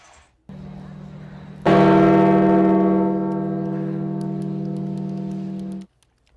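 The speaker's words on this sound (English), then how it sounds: "Bells tolling at the Vatican" A large church bell at the Vatican tolls in mourning, striking once and ringing out loudly, its deep humming tone sustaining for several seconds before cutting off.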